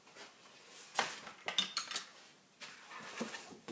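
A painting shifted aside on a table, a few soft clattering knocks and scrapes close by, quiet and brief with short pauses between.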